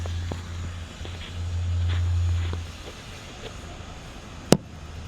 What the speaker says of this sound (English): you'll hear the audio come on very faintly, and then you'll hear it pop